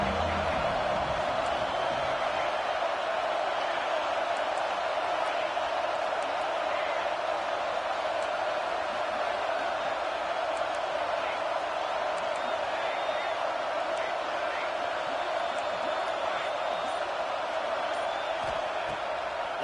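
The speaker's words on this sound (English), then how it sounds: "Man, this crowd really affecting the football game." Home crowd at a Texas A&M football game keeps up a steady, dense roar through the whole stretch, a constant wash of stadium noise with a sports commentator talking over it.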